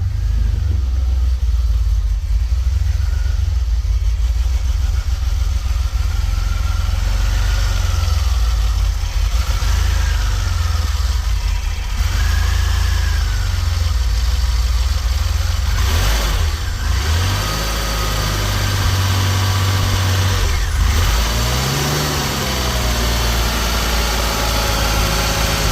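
Cold DeLorean engine idling with a surge, its steady low hum rising and falling in slow waves over about twenty-five seconds, close and continuous with no talk.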